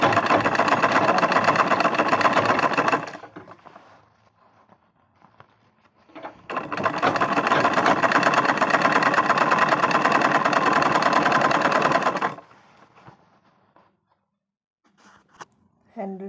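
A sewing machine stitches a double-folded fabric bag handle in two long, steady, close-up runs. A few seconds of near silence and light handling separate the runs.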